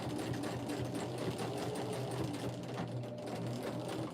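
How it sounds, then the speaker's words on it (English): Sewing machine back stitching a fabric key fob, a rapid steady mechanical whirring and clatter of the needle running continuously, close and even, with no talk. "do a little back stitching to hold it in place."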